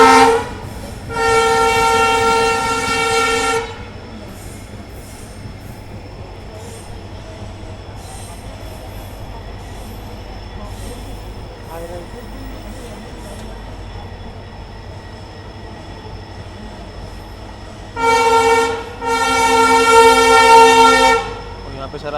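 The Rajasthan Sampark Kranti Express, on its Delhi to Jodhpur run, speeds through Inchhapuri railway station without stopping, sounding two long, loud horn blasts at the start and end over a steady rumble of wheels and rails, with faint talk in between.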